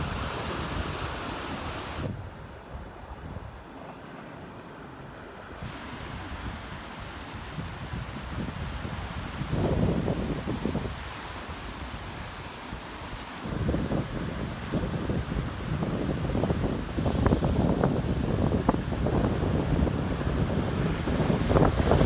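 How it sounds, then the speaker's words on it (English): Steady rushing surf at Crescent Beach, Clallam County, Washington, with wind buffeting the microphone, waves building louder toward the end, no voices. "You gotta be prepared for these waves coming in."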